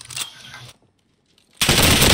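Enemy gunfire in the Call of Duty Warzone video game: a loud burst of automatic fire, then near silence, then a sudden dense rattle of shots close by.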